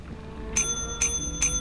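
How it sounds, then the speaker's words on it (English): A bell in the video game Lethal Company is pressed three times in quick succession, each a bright metallic ding ringing out over a low background hum. "now what I want you to do is press that bell"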